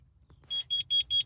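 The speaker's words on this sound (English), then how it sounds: "I just hit the smoke detector" A smoke detector sounds four quick, shrill beeps in a fast regular run, loud and close with nothing else around it.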